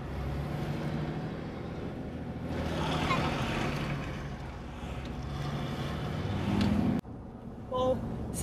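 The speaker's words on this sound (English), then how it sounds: "I'm gonna wait for all these four cars to go by." Cars pass close by on a road near a parked RV, a broad rushing swell of tire and engine noise with wind buffeting the microphone, rising and fading, then a sudden drop to quieter ambience.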